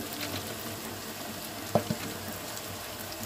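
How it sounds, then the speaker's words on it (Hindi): Garlic ginger paste fries with lightly browned onions in a pot for mutton biryani, a low steady sizzle with a couple of sharp clinks from a spoon midway. "इसमें हम लहसुन अदरक का पेस्ट डालेंगे एक चम्मच।"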